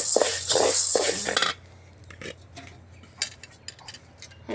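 Black gram lentils with the skin on are stirred in a pan, giving a loud dense scraping and rattling at first that drops to quieter scattered clinks and scrapes.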